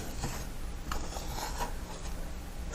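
A palette knife scrapes paint off a painting palette in several soft, rasping strokes, close but fairly quiet, with no voices.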